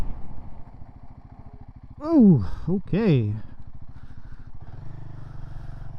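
A budget adventure motorcycle engine runs with a steady low chugging throb throughout, while a person talks briefly over it in the middle.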